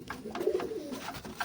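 Soft, throaty pigeon coos rising and falling over a low background murmur, fairly close.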